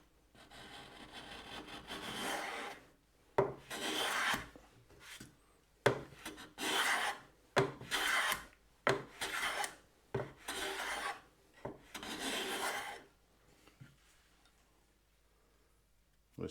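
A Japanese kanna hand plane shaves powdery thin curls from wooden end grain in a series of about a dozen rasping strokes of varying length, close and fairly quiet, with brief pauses between passes.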